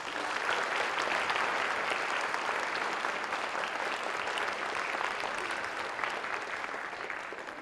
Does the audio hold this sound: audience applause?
yes